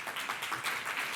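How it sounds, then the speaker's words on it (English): Audience applause at an opening session of a professional network convening, a short stretch of steady moderate clapping from a room of people, fairly close and unbroken throughout. "that deserves applause."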